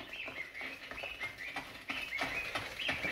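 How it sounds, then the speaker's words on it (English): Birds chirp in short, repeated high tweets against a soft background hiss, fairly faint and steady throughout, in the Wii game Wii Jogging. "Up the volume, you can hear the birds."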